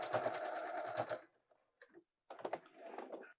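A home sewing machine backstitching the seam of cotton pyjama shorts: a fast, close mechanical whir in short bursts, stopping briefly, a light click, then resuming stitching.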